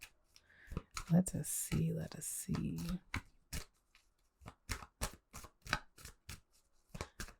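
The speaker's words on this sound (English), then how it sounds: "So I'll do a little shuffle real quick." Tarot cards being shuffled in a rapid series of crisp, riffling flicks and slaps, close and fairly quiet, with brief soft speech near the start.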